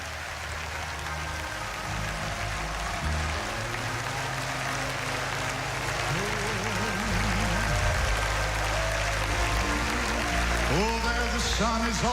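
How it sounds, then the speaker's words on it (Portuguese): A church congregation claps and cheers in praise, sustained applause filling the room as a deep organ or keyboard plays underneath and voices rise throughout. "Dê uma salva de palmas ao Senhor."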